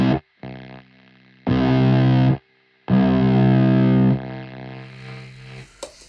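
Electric guitar run through a Hexed Fuzz distortion pedal from AIB Custom FX, with thick, sustained fuzzed chords played in loud bursts separated by short silences, then left to fade and gate off, with no voices.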